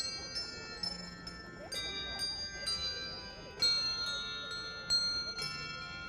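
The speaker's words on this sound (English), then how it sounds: "The bells are just playing softly, holiday music." Bells play holiday music softly at an outdoor Christmas market, with sustained ringing chimes struck in a slow melody and ambient crowd murmur underneath.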